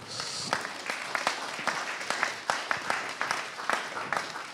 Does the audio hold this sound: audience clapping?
yes